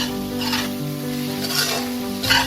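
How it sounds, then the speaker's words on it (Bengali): Spices and three green chillies being stirred in a pan of hot oil, a steady sizzle with scraping strokes of the spoon against the pan, alone and close. "এই মশলাটাকে ভালো করে মিশিয়ে নেব"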